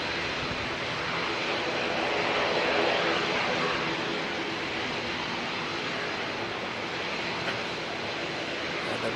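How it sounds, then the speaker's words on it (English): Jetstar Airbus A321 jet airliner arriving from Sydney at Auckland Airport, a steady broad engine roar that swells slightly and then holds, heard from a distance with no talk. "Next arrival should be the Jetstar A321 coming out from Sydney."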